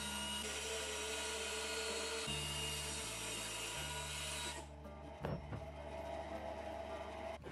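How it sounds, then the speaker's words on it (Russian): A band saw runs steadily with a mechanical drone, cutting through plywood, then the motor winds down and the sound drops off near the end. "на ленточной пиле напиливаю заготовки"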